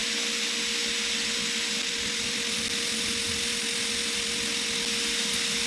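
A steady machine drone with a sustained whining hum and broadband hiss, constant and unbroken, a lathe drilling into a workpiece for a turned bottle opener.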